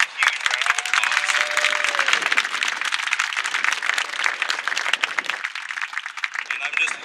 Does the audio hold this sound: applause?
yes